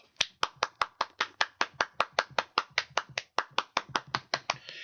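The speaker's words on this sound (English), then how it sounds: "These people are applauding." Steady, rhythmic clapping of a few hands in a store, sharp evenly spaced claps repeating about four per second, fairly close, in a reverberant indoor space.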